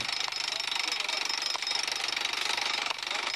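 Petrol-powered jackhammers pound rapidly and continuously into mountain rock at a gem mine, a loud, dense rattling hammering with slight pulses in intensity throughout.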